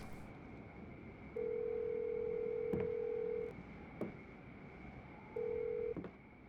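Telephone keypad tones: a long steady dialing tone, a shorter one a few seconds later, and sharp clicks between them, all clear against a quiet background hum.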